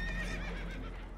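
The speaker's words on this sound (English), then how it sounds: "Horses are spooked, and we're taking on water." Spooked horses aboard a damaged boat taking on water in the video game Red Dead Redemption let out loud, close, shrill whinnies that quaver continuously over a low rumble, with faint hoof clatter.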